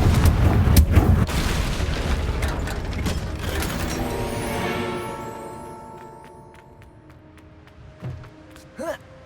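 A Confringo fire spell detonates in Hogwarts Legacy, a loud booming blast with rumbling, mechanical clatter that slowly fades into ringing tones, followed by a couple of brief, fainter impacts near the end.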